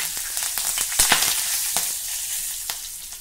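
Curry leaves drop into hot oil with browned fenugreek seeds, raising a loud, hissing sizzle with sharp crackling pops that settles into a steady fry.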